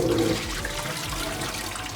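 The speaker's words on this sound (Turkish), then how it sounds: "Şimdi bunları bol suda yıkayacağız." Watermelon rinds are rinsed in plenty of water, a steady rushing, splashing stream that stays loud and close throughout with no talk.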